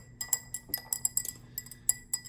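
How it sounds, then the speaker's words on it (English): A solution being stirred in a glass container during a water hardness lab, quick light clinks of a stirrer against glass in an irregular rapid rhythm, close and fairly quiet, no talk. "I'd be stirring this for a couple of minutes"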